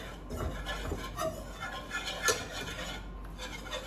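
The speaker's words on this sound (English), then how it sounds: "I'm gonna stir in the flour with the butter" Spoon rasping and scraping through flour and melted butter in a pan, soft irregular stirring strokes up close with occasional light clinks against the metal.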